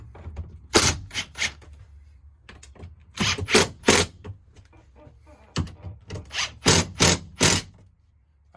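Screws are driven down on a roof-mounted RV air conditioner unit on a Grand Design Reflection 312 BHTS, with short bursts of power-driver whirring separated by pauses, loud and close.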